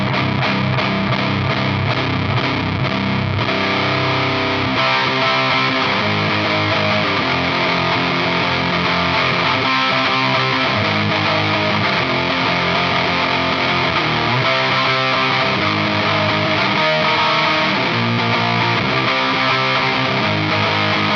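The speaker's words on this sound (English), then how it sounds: "The RAT with the distortion up high is really where it starts to just fully fuzz out" Electric guitar played through a ProCo RAT2 distortion pedal with the distortion knob turned high, giving a thick, fuzzed-out, saturated tone of sustained chords and riffs, loud and continuous with no talking.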